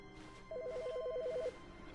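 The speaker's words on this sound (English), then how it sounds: "Hey, the phone's ringing." A telephone in the game The Stanley Parable gives one rapid warbling electronic ring lasting about a second, clear but not loud, over a quiet background hum.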